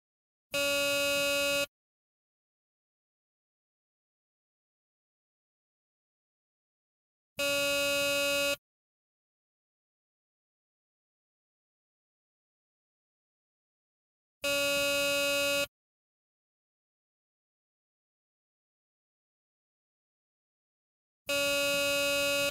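A Garrett PD 6500i walk-through metal detector sounds its alarm in four separate loud tones, each lasting about a second, evenly spaced roughly seven seconds apart with silence between.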